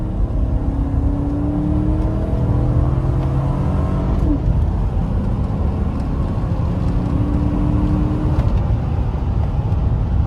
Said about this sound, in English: Watch when I speed and I step on the gas.